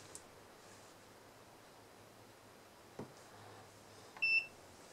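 A digital multimeter in diode-check mode gives a short, clear electronic beep near the end, following a soft click, against a quiet hiss of background noise.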